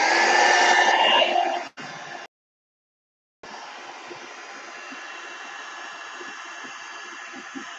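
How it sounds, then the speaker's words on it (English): A hair dryer or heat tool blows loudly over a paper journal cover, cuts out abruptly, then returns as a quieter, steady whooshing hum. "I'm going to dry it real quick"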